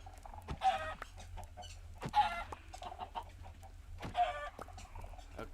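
Minecraft chickens cluck in three evenly spaced bursts, each a quick run of clucks, moderately loud over a low, steady background.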